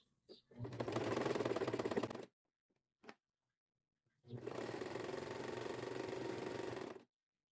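Sewing machine stitching knit fabric in two sustained bursts, a steady rapid mechanical whir lasting about two seconds and then nearly three, separated by a pause with a brief click, no talking.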